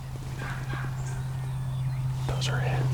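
Wild turkey hens call in the distance during an outdoor spot-and-stalk hunt, giving faint yelps over a steady low hum and ambient noise.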